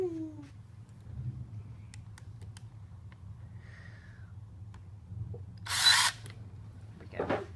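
A power drill used while building a garden, running in short bursts with a brief whir of spinning and a loud burst near the end, against a low hum.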